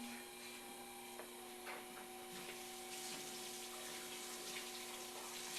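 Clay is rinsed off under a running tap, a steady, soft hiss of flowing water at low level with faint splashy variations and a constant background hum, no talking.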